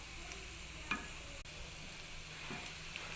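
Potatoes frying with chilli and garlic are stirred in a pan, giving a soft, steady sizzle with a few faint scraping strokes of the spoon. The sound is quiet and close, with no talking.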